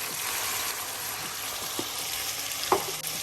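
Seasoned bottle gourd (upo) frying in a pan with salt, pepper and garlic powder, a steady close sizzle with occasional soft stirring clicks and a faint scrape near the end.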